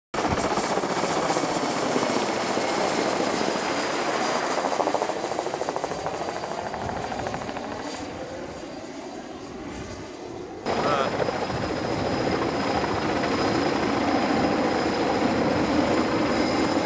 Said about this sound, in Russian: Я очень надеюсь, что прилетит вертолет.